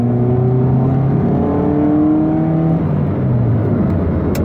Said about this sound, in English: For a second there, I thought that was a dead turbo.